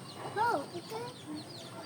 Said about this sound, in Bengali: মুরগি বলো মুরগি